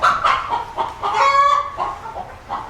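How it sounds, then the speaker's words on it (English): Chickens cluck in a farm coop during egg collection, a run of short, fairly close calls with one longer, drawn-out squawk in the middle, and no talking. "that's a chicken though"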